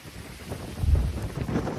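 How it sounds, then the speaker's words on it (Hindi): Strong wind gusts roar across a village, a steady low rumbling buffet on the microphone that swells and surges throughout, close and fairly loud with no talking. "कितनी तेज हवा चल रही है"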